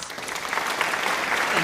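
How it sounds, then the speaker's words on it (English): A short burst of dense applause, steady and fairly loud, with a voice faintly mixed in during a home cash-budgeting session. "I think that one called for an applause."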